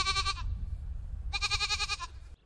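Goats at a monastery farm on Konevets island give two loud, nasal bleats close by, each roughly half a second long, separated by a short pause over a low rumble of outdoor background noise.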